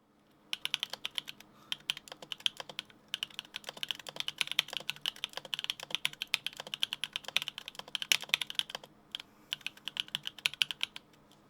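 Fast, steady typing on a mechanical keyboard fitted with BadSeed Tactile switches, a dense run of crisp, clacky keystrokes close up, with a couple of brief pauses and no talking.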